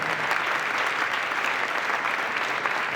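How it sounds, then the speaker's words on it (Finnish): An audience at a ballroom dancers' retirement show claps steadily, a thick, even wall of applause from many hands that runs unbroken with no speech on top. "Näille saa taputtaa myös."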